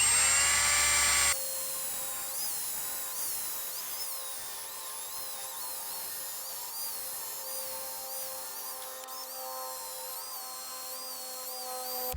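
Power sander running steadily with a P500 sanding disc against a plastic headlight lens, a continuous high whine after a brief louder start, with no talking.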